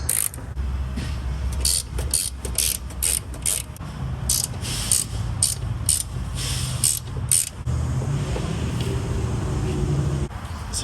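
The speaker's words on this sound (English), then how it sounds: "I'm gonna use this ratcheting box wrench, and then I'm gonna loosen these." Ratcheting box wrench loosening strut nuts on a 2014-2020 Yukon, Tahoe or Escalade, heard as repeated bursts of close metallic clicking in short rhythmic runs, with pauses between strokes.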